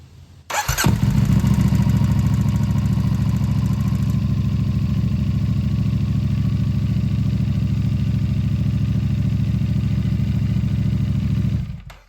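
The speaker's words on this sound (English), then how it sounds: "Now we can start the bike up." A CFMOTO 450SS motorcycle engine starts up and settles into a steady, loud idle that runs for about ten seconds before cutting off, with no talking.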